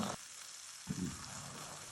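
Cabbage sizzles in a hot pan while cooking for pancit, a steady soft hiss that swells briefly as the pan is stirred, with no voices.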